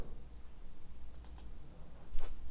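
A computer mouse clicks a few times, sparse and faint, while an online job application form is being filled in, over a low steady room hum.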